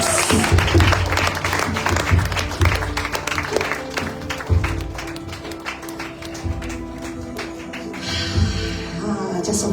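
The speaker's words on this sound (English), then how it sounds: "Come on, clap your hands for Jesus." A congregation at a Sunday evening worship retreat claps hands in rhythm, a busy layered patter of many hands over music and voices in a reverberant hall.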